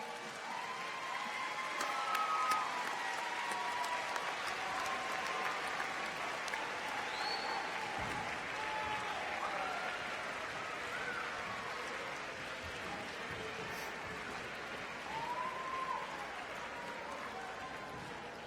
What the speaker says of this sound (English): I would like the graduates to join me in a standing round of applause to thank your families